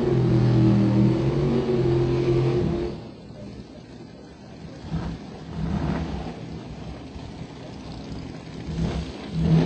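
A 1,200 horsepower drag racing car accelerating at a Nitto Tire All-Star Nationals drag meet, a loud revving roar that fades into distant engine rumble and crowd noise.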